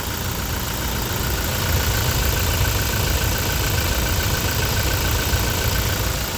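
A 2018 Toyota Hilux 4x4 with a 2GD diesel engine idles smoothly and steadily, a constant low rumble with faint rattle held at even loudness throughout, close to the engine and with no talk over it.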